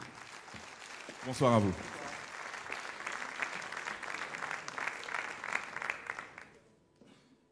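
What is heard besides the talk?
audience applause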